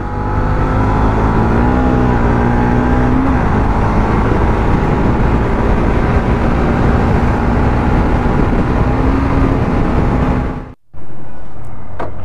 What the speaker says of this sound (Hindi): चलिए थोड़ा स्ट्रेच किया जाए बाइक को आज.